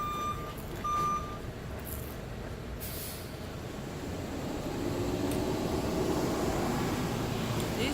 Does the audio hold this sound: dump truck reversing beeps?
yes